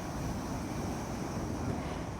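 A strong northwest windstorm roars over the high, rough sea at Alexandria during the Eid al-Salib storm, a dense, unbroken rush of wind and surf that fills the whole stretch with no voices.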